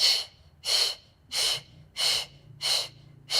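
Rhythmic breathing during a Pilates class, six sharp breathy bursts in a steady pulse about every half second, close and clear with brief silences between.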